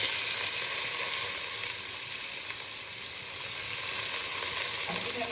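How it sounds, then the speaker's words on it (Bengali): Chopped onion frying with cumin in hot oil, a steady close sizzle with constant crackling and no pauses, alone without talk, while fish with potato and pointed gourd is being cooked. "যখন ভাজা ভাজা হয়ে যাচ্ছে তখন আমি পেঁয়াজ দিচ্ছি ওর মধ্যে"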